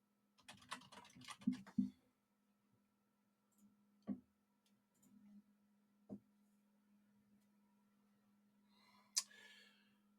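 Computer keyboard typing at a desk, a short cluster of quick clicks followed by a few isolated keystrokes spaced apart, close and fairly quiet over a steady low electrical hum.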